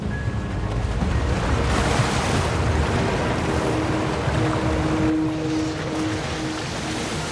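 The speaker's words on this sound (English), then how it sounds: "I see white! Our first rapids already." White-water rapids on a cold, unexplored river on Kamchatka's Kronotsky, heard while rafting: a loud, steady rushing roar of churning water with wind buffeting the microphone throughout.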